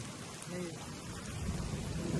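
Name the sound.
rain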